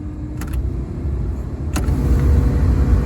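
Climate control blower motor of a 1992 Pontiac Trans Sport SE running loud and steady: a low whooshing rumble that holds for the whole stretch, close by, with a couple of brief clicks and rattles over it.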